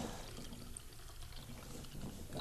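Ordinary tap water pours with a soft, steady splash and trickle, fairly faint and close, rising slightly at the end.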